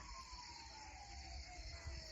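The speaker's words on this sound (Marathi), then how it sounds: "आम्ही आमच्या इथलं एक सायरन आम्ही बंद केलंय तरी पण सगळ्या वस्तीवरती आवाज होतोय बाकीच्या सायरनचा" Distant warning sirens wail across a village settlement where a leopard has been prowling, a faint, steady, slowly falling tone carried from far off, with no voices.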